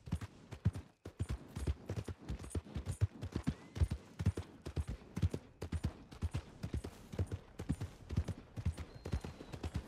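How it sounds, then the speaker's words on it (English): Rhythmic horse hooves clip-clop steadily at a gallop in Red Dead Redemption 2, close and continuous throughout with no talking. "Can't remember how to slow down my horse."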